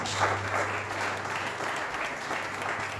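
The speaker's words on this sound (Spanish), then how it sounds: "Y démosle un fuerte aplauso a Cheite, amén, y muchas gracias." A church congregation applauds together, a dense, steady wash of clapping that holds even and fairly loud throughout with no break.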